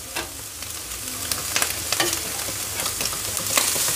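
Bacon and onion crackle on a hot steel griddle as they are flipped over and over, a close, bright sizzle with quick clicking scrapes of the utensil and no speech.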